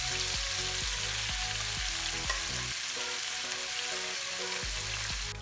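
Cubes of tofu fry in a pan for tofu tikka masala, a steady close sizzle running throughout with short periodic pulses as the pieces are moved and stirred.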